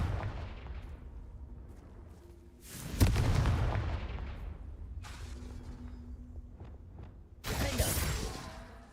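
Fire-blast spell from the wizarding game Hogwarts Legacy, cast as Confringo, bursting in loud broadband blasts around three seconds and again near the end, over a steady rumbling game backdrop.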